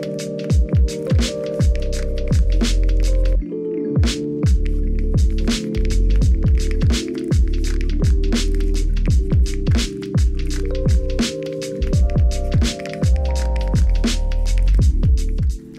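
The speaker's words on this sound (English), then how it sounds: "For the second polishing step, we're going to use the same rubbing compound but with a medium foam pad." Machine polisher running with rubbing compound on a medium foam pad over the paint of an E2 Toyota Supra, a loud steady motor hum with shifting pitch and frequent brief clicks and pauses as the pad is worked.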